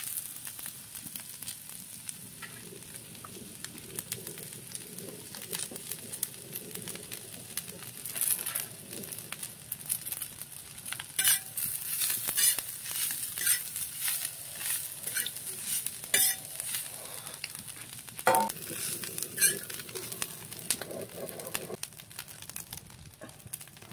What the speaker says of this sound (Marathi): आल्याचे तुकडे असे बारीक चिरून घेतलेले भाजून घ्यायचं आहे। आता आपल्याला याच्यामध्ये ओलं खोबरं घालायचं आहे